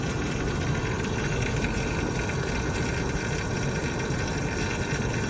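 Turbocharged LS V8 swapped into a BMW E36 idles steadily with a continuous broadband rumble and hiss, pulled over at the roadside, with a scavenge pump running in the mix.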